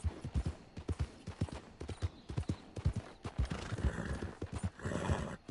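A horse in Red Dead Online trots with rapid, loud clip-clop hoofbeats in a steady rhythm, close by, with scattered background noise.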